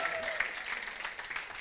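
An audience at a talk bursts into brief, dense applause, a steady crackling wash of many hands throughout.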